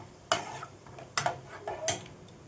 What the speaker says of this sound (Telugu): పల్లీలు కూడా మనకు వేగిపోయింది